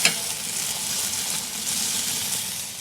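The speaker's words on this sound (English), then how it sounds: "Sizzle, sizzle." Steady sizzling and crackling of food frying in a hot pan, close and continuous with no talking.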